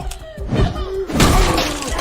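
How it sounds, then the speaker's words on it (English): A head driven through sturdy wooden banister support beams in a horror film, a sharp splintering crash and heavy thud, loud and close, with a second burst of breaking wood right after. "Michael proceeds to use Cameron's head as a battering ram and smashes through the fairly sturdy looking banister support beams"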